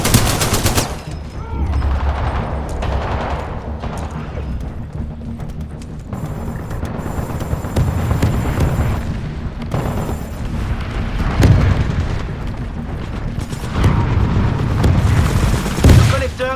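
Gunfire and explosions in the video game Titanfall 2, bursts of rapid shots and heavy booms that come and go over sixteen seconds, with voices speaking at times.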